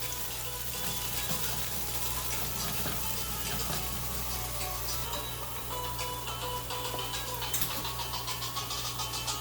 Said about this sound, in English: I put in the cauliflower rice, so I'm just gonna cook that while I still have my veggies off to the side